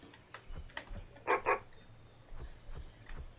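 Wolf in a fishing video game, a couple of quick, quiet yips and barks with faint ticking and low game ambience around them.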